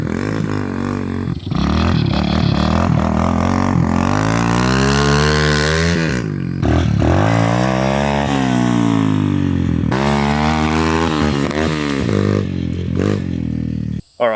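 Chinese 125cc pit bike engine revving hard during a wheelie attempt: a loud, close, buzzing single-cylinder note that rises and falls in pitch over and over, with rattling and clatter throughout.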